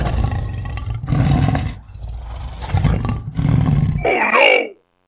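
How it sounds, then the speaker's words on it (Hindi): Tiger growling in a series of deep rumbling roars, close and loud in several long pulses separated by brief pauses, ending in a higher snarl, no talking. "मुझे तो यहाँ बाघ के गुर्राने की आवाजें सुनाई दे रही है"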